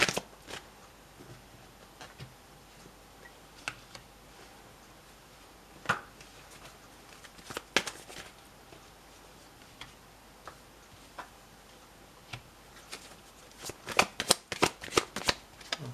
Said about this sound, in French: J'ai les cartes qui tombent.